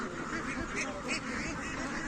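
Domestic ducks raised on a natural pond quack and call in an overlapping, steady chorus. A few sharper calls stand out against constant background bird noise, and no one is speaking.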